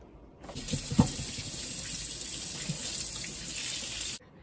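Tap water runs onto potatoes being washed in a sink, a steady close splashing gush that starts abruptly, carries a few knocks and bumps, and then cuts off, no voices.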